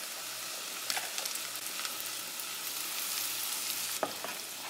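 Garlic sizzles in butter in a pan over low heat with a steady, bright frying hiss, dotted with a few soft clicks of a utensil, close and continuous without talk.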